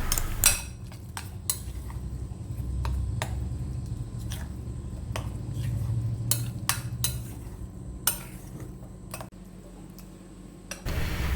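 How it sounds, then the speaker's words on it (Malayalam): A spoon stirs bread snack batter mixed with milk in a bowl, giving scattered sharp clinks and taps against the bowl over a low steady hum, close by, with no talk. "നമുക്ക് ഇതിനെ നന്നായിട്ടൊന്ന് ഇളക്കി യോജിപ്പിക്കാം"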